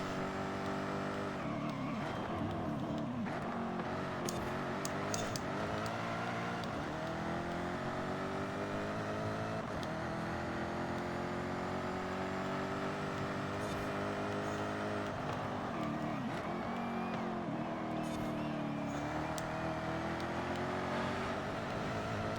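Jaguar F-Type R Coupe engine from 2015 in Forza Horizon 5, a continuous loud roar with shifting harmonic pitch as the throttle is held and revs climb and drop through gears, no voices.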